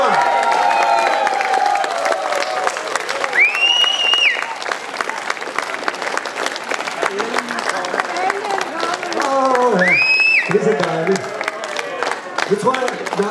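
An audience at Bakken amusement park in Frederiksberg applauds and cheers, a dense, continuous wash of clapping with scattered shouts, loud and close, while voices call out over it.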